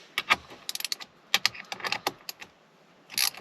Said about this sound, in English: I'll snug it up with the wrench.